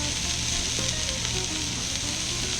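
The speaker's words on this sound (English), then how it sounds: "we're going to grab these out of the bath and place them directly on the grill for a couple minutes to give them that char and that sear" Hot dog links sear on a Weber Q gas grill with a loud, constant close-up sizzle and crackle, joined by faint metallic touches of tongs.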